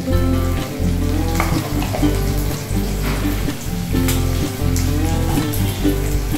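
Whole mustard seeds fry in oil in a pan, a loud continuous sizzle with crackling pops, heard alongside steady background music.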